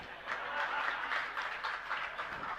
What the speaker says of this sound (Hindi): क्योंकि आपकी ताली बज रही है